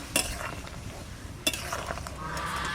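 A spoon stirs oil-free chicken curry in a cooking pot, giving quiet, soft scraping and clinking with a couple of sharper knocks against the metal under a low simmering background.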